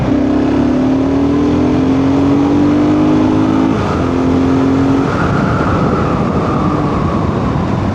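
A BSA Scrambler 650 single-cylinder motorcycle engine revs loudly and continuously under throttle while riding, its pitch climbing and shifting through gears beneath steady wind rush.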